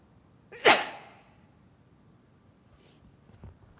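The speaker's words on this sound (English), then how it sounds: "Excuse me, I'm going to sneeze." A single loud, sharp sneeze from one person bursts out clearly early on and then trails away into near silence, with a soft breath or rustle following.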